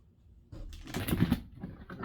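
Tarot cards being shuffled by hand, a burst of soft papery riffling and flicking lasting about a second and a half, close and moderately loud with no talking.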